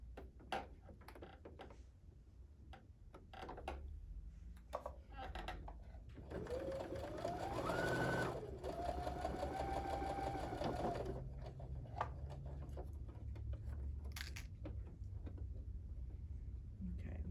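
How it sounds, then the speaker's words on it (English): A sewing machine stitches a quilt seam at close range, a steady whirring run lasting several seconds with pitch rising as it speeds up, framed by clicks and handling noises, with talk around it. "So let me sew this."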